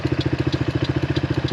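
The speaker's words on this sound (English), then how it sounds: "The engine actually seems like it's running pretty darn well, I have to say." A HammerHead 250cc go-kart engine idles steadily and loudly up close, its even, rapid putter holding a smooth rhythm without dropouts.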